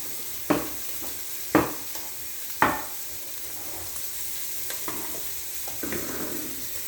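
Onions are added to bacon in a hot pan, producing a continuous sizzle and frying hiss with a few sharp clanks and scrapes of stirring near the start.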